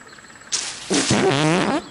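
Cartoon character letting out a loud, drawn-out wet fart with a wobbling, sputtering tone, following a short burst, with no talk.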